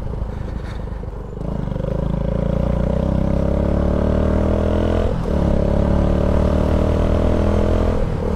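A Suzuki Intruder motorcycle engine idles close by, then revs up into a strong sustained drone, dipping briefly around the midpoint before climbing again, loud and alone without speech.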